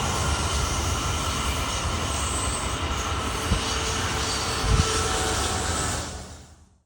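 A Brightline train with the Palm Beaches wrap rolling through Orlando International Airport, a loud steady roar of wheels and engine close by, holding constant before fading out quickly at the end.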